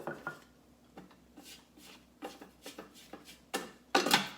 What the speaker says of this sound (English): now we'll just scrape down the sides